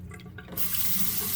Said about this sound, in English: Okay, so I've got the water turned on. Start with the cold.